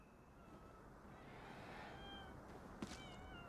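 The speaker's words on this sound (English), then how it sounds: "I hear a cat." A cat meows in the video game Ghostwire Tokyo, faint and brief against a quiet ambient background, with a short cry rising near the end.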